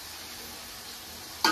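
Beef korma is being fried in a pan in a village kitchen, giving a steady, soft, close sizzling hiss that ends in a brief louder scrape.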